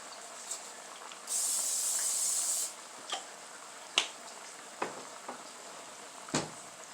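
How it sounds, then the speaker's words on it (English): A single hiss of cooking spray coats a pan before hot dogs go in, about a second long and close, set among faint clicks and light kitchen knocks. "You spray that with just a little bit of cooking spray."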